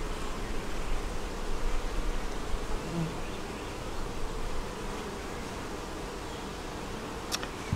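Honey bees buzz around an overflowing hive during an inspection, a dense, continuous swarm drone that stays close and fairly even throughout, with no voices.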